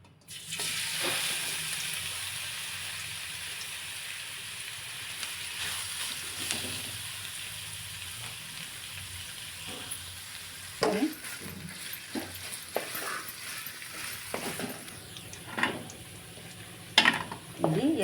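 Ridge gourd peel frying in a little oil in a pan, a steady broadband sizzle running throughout with occasional clicks and scrapes of stirring; no talk.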